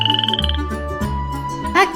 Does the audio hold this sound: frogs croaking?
yes